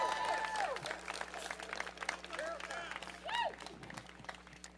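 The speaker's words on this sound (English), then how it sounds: "Another round of applause, folks." Faint, distant outdoor rally crowd applause with scattered clapping and some cheering, mixed with chirping sounds and a low steady hum, in Washington, DC.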